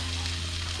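Barracuda fillets sizzling in a pan with butter, a steady close crackling fry with a low hum underneath and no speech.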